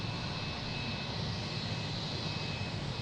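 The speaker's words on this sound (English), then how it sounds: "We got a JetBlue taking off" A JetBlue jet airliner taking off at Boston Logan International Airport, a steady broadband engine roar with a faint high whine, moderately distant and constant throughout.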